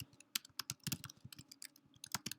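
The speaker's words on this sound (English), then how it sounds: "Test my typing skills here as I talk." Rapid typing on a computer keyboard during a statistics help session, a steady run of close, crisp key clicks with no speech.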